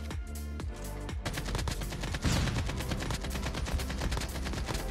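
Dense, rapid bursts of automatic gunfire from a COD Mobile match, loud and continuous over the whole stretch with sharp repeated cracks and no voices.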